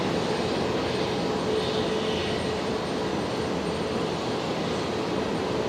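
Aircraft landing at Brisbane Airport: a steady, loud, broadband engine roar held for several seconds with no break, distant rumble blended with a high jet hiss, no talking.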